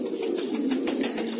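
Pigeons cooing close by, a steady run of soft, low, throaty coos repeating in quick succession with no voices over them.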